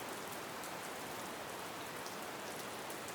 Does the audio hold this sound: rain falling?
yes